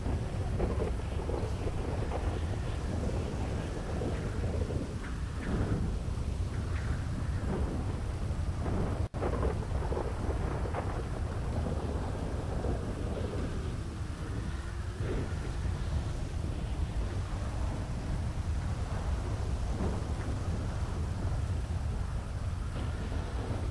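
Thunderstorm in a video game, with steady rain and wind noise under repeated rolling thunder rumbles and one sharp crack midway, continuous and fairly loud throughout with no talking.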